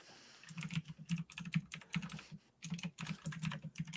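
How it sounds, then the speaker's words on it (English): Someone types on a noisy computer keyboard, with rapid, uneven clusters of sharp clicks broken by a brief pause, close and fairly clear. "I should probably mute my noisy keyboard."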